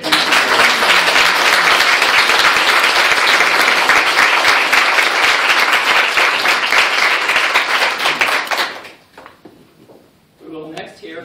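Audience applause at a bicentennial kickoff event, a dense, loud wash of clapping that holds steady for about eight seconds before cutting off abruptly, followed by a brief murmur and a short spoken voice.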